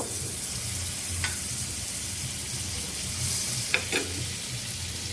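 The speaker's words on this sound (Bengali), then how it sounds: "এই দিয়ে দিলাম ঘি মেল্ট" Ghee melting in a pan gives a steady, even sizzle close by, broken by a few brief clinks of a utensil.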